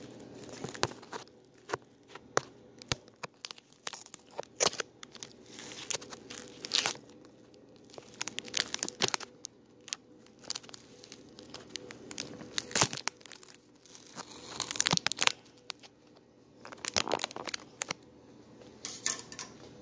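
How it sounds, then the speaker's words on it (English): Scissors cutting through paper and tape, a quiet, close series of irregular snips and crinkles with short pauses between cuts, no talking. "I'm cutting it. Sorry if you guys don't like this weight."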